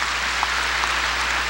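A church congregation claps during a 1992 Sunday worship sermon, a steady dense wash of applause filling the room at an even level, with no clear individual claps and no talk over it.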